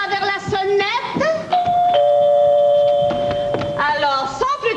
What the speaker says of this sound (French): Papa s'étire le bras vers la sonnette